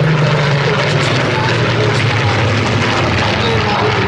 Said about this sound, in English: Lead aircraft is a FR-14, so this is a late war aircraft.